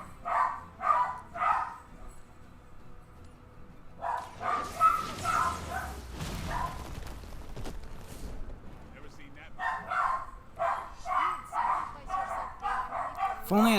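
Several dogs barking excitedly in a family home, rapid bursts of yips and barks in clusters, loud and fairly close, with some whimpering. A stretch of other noise breaks in midway before the barking resumes.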